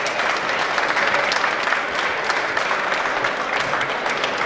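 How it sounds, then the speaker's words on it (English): An audience at a political event claps in dense, steady applause that fills the room at full loudness from start to finish, with no voices standing out. "Give her a hand of applause."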